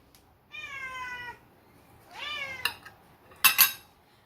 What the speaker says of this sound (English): you've been meowing in every video lately